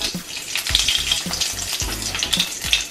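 Black cumin seeds and green chillies sizzling in hot oil for a Bengali rohu fish curry, with steady crackling and a few bursts of spitting as they fry, no voices.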